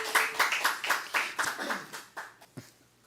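Irregular hand claps from a small group at a Sunday church service, a quick burst of separate claps that thins out and fades after a few seconds.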